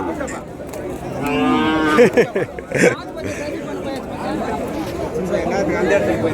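Cows mooing at the Matrapalli cattle market, loud drawn-out lowing calls close by, with crowd chatter and people talking all around.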